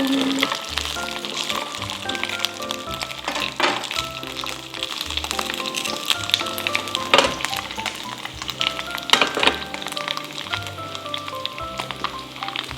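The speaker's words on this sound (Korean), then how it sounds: "지글지글 소리에 한번 빠져보세요." Steady, close sizzling and crackling of a pork and scallion pancake frying in hot oil in a pan, spitting continuously with no voices.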